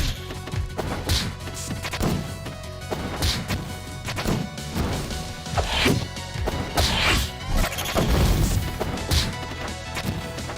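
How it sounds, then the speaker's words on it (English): Boss attack effects from Scoville in a Kirby video game: repeated heavy crashes and whacking impacts with swooshes, loud and dense throughout, no talking. "I love the sound effects on Scoville"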